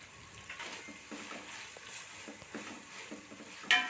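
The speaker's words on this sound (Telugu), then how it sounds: "ఒక ఐదు నిమిషాలు ఫ్రై చేసుకోవాలి" Tomatoes with coriander and mint frying in a pan for coconut milk pulao, a low, soft sizzle with light scraping stirs and a sharper clink near the end, no talking.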